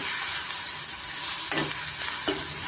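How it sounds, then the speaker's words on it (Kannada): Coriander and mint leaves frying in oil for a green egg curry crackle with a steady, fairly loud sizzle, and two distinct spoon scrapes cut through near the end. "ಕೊತ್ತಂಬರಿ ಮತ್ತು ಪುದೀನ ಸೇರಿಸ್ಕೊಳ್ತಾ ಇದ್ದೀನಿ ಅದನ್ನು ಸ್ವಲ್ಪ ನಾವು ಎಣ್ಣೆಯಲ್ಲಿ ಫ್ರೈ ಮಾಡ್ಕೊಳ್ಳೋಣ"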